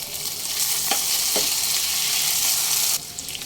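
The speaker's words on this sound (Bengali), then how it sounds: "আদা রসুনের কাঁচা গন্ধটা চলে যাওয়ার পর্যন্ত লো ফ্লেমে একটু ভাজা ভাজা হতে দেব" Chopped ginger and garlic fry in oil over a low flame, a steady close hiss with a few brief scrapes of a spatula, no voices.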